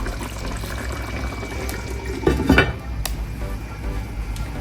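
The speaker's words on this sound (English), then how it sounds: "I'll put the lid back on here, turn off my stove" A metal lid is set back on a pot of stew on a stove, giving a brief clanking clatter midway over a steady background hiss and hum.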